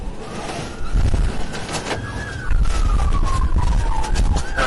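A police car siren wails through traffic, its pitch sweeping up and down over the rumble of a moving vehicle, fairly close and steady.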